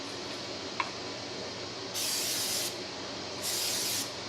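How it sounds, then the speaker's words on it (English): Two sustained bursts of cooking oil spray hissing onto a hot griddle, each lasting under a second, over a steady low background hum. "the spray oil didn't instantly catch on fire"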